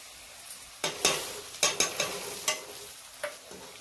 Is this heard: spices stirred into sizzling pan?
yes